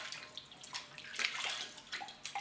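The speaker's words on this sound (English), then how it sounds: "Now, rinse that off again, make sure it's warm." Warm water runs and splashes softly as face cleanser is rinsed off, a faint, close trickle with small irregular splashes and no voices.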